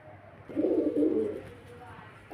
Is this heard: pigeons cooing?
yes